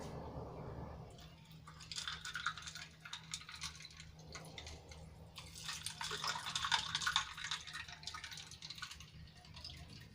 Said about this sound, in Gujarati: હવે એમાં આપણે જરૂર મુજબનું પાણી એડ કરીશું